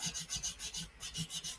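Fine 400-grit sandpaper rasps back and forth on a plastic model kit part in quick, regular strokes, about ten passes, close up and fairly quiet.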